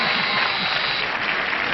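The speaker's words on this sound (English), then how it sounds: "The weirdos are applauding your answer." A studio audience applauding during a game show chat, a brief even wash of clapping heard at moderate distance, slightly muffled and band-limited, with no voices on top.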